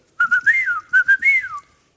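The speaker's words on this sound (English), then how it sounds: "When you've finished and got your money, you whistle." A person whistles a short signal: a run of clear, high notes, some sliding up and down, in two quick phrases, close and alone against silence.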